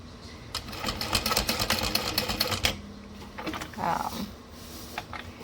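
A sewing machine runs rapid rattling bursts of stitching, forward and back, to attach a pocket on a Lindsport backpack. There is a long run of stitching, then a pause, then shorter bursts close to the mic, with brief quiet talk between them.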